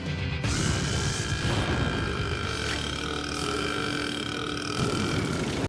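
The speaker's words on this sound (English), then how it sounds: "Who's up for a little belching contest?" A long, loud cartoon belch rumbles on for several seconds without a break, from a belching contest in My Little Pony: Friendship is Magic.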